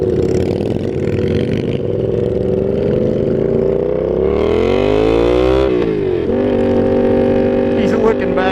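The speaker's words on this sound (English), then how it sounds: "These guys have straight pipes on their bikes." Motorcycles with straight pipe exhausts, loud and continuous, their engine notes rising and falling as they rev and shift, with a sharp pitch change partway through and a nearby rumbling engine underneath.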